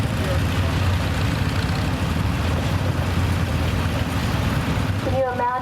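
A 1981 International 686 tractor rolling in an antique tractor show parade, its engine a steady low rumble close by, with a voice talking over it and a brief siren-like warble near the end.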